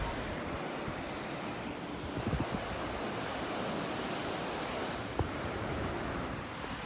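Surf washes steadily onto a beach at Hilton Head, a broad continuous roar of breaking waves with wind buffeting the microphone and a few faint knocks.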